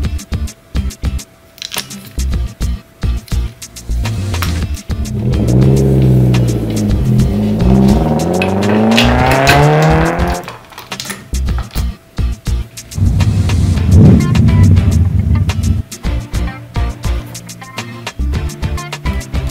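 A toy race car whirs and revs up in a rising, wavering sweep at close range, followed by further bursts of motor noise and clatter, with no voices.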